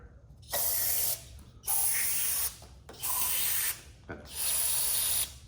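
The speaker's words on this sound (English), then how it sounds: "I'm just taking some brake cleaner and I'm spraying it in all of the bolt holes where the head bolts go in" Brake cleaner aerosol sprayed into the head bolt holes of an International Harvester 140 tractor engine, four sustained close hissing bursts of about a second each separated by short pauses, with no speech.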